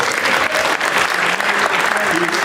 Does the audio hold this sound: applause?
yes